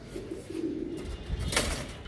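A pigeon gives soft, low cooing, faint and close, with a brief brighter rustle near the end.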